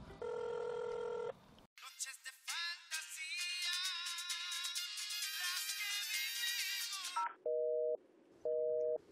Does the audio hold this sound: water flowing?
no